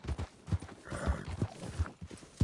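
Horse hooves clip-clop in a quick rhythmic gallop while riding in Red Dead Redemption 2, close and clear with a brief snort.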